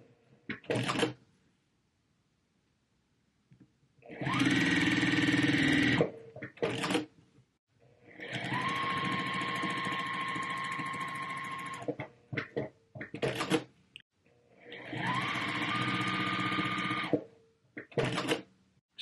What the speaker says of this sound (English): I stitched an extra seam on here, so now I have some bonus half square triangle units that I can use later